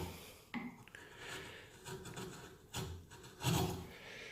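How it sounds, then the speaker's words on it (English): A freshly sharpened chisel shaves end grain on a piece of Seligna wood, giving close, dry scraping and rasping strokes with a few sharper cuts and no voices. "So I've got a piece of Seligna here, and this is facing up, so I'll be cutting some end grain."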